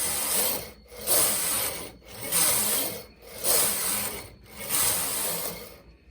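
A knitting machine carriage is pushed back and forth across rows of fabric, making five loud rhythmic rasping, rubbing sweeps with brief pauses between passes, close and alone.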